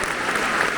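Steady applause from the crowd at Old Trafford stadium during a football match as a substituted player leaves the pitch, a dense, continuous wash of clapping filling the stands.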